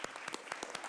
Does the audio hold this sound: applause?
yes